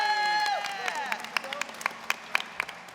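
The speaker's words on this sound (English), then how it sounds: "Round of applause," An audience applauds a cosplayer dressed as Yen at a live Witcher role-playing event. The scattered claps start under a host's voice and continue as a thin, close, uneven run of hand claps.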